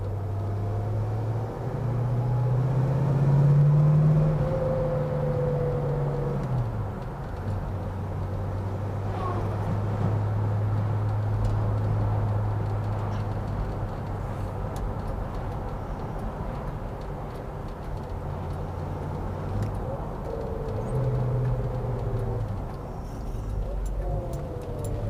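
A 1970 Oldsmobile 442 hardtop on the road gives a steady low engine drone with rises and falls as it accelerates and shifts, with occasional faint ticking over the road noise.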